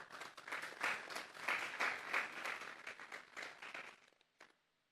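A congregation at a Sunday church service gives a round of applause, bursts of clapping swelling and dipping unevenly before fading out to near silence at the end, moderately distant and soft overall.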